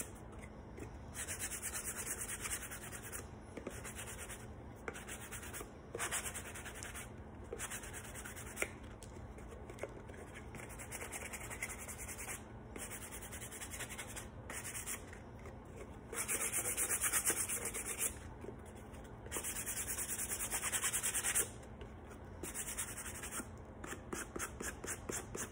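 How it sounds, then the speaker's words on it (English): A sanding sponge scuffs around the edges of a farmhouse-style frame in repeated rhythmic bursts of dry rubbing, close and fairly quiet, with no talking. "what I can do is go over it with my sanding sponge. I'm gonna go around the edges and just kind of rough up the edges"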